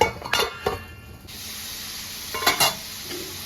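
Spice paste with bitter gourd fries in a pan, a steady close sizzle broken by a few brisk scrapes and clinks of the spatula against the metal in two short bursts, with no voices.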